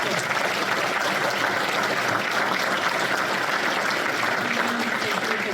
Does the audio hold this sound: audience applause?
yes